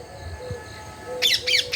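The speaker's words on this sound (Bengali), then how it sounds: "ওখানে গাছের মধ্যে টিয়া পাখিও রয়েছে" Parakeets in trees let out three harsh, rapid squawks in quick succession, fairly close, after a quieter stretch of thin whistling calls.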